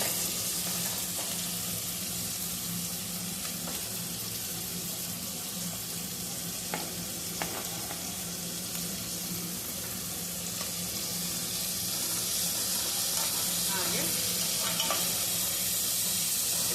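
Onion and ginger frying in a pan for a home-style tomato curry, a steady close sizzle throughout with occasional stirring scrapes and clinks, no talking.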